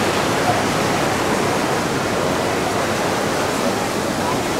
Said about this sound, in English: This wagon or this water wheel.